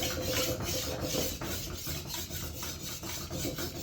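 A planer knife rubs back and forth on a sharpening plate in rapid, even gritty strokes, a continuous close rasping with a steady rhythm and no voices.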